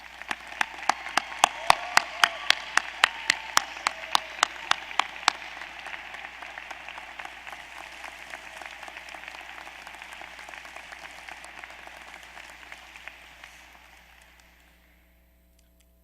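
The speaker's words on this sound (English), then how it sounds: "Would you please join me in applauding Joe for his service?" Audience applause at a law school hooding ceremony, opening with a few sharp close claps over a dense, steady wash of clapping that holds for about twelve seconds and then thins out and fades to silence.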